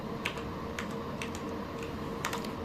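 Typing on a computer keyboard while entering a search term into a settings file, a handful of quick key clicks in small bursts over a steady low background hum.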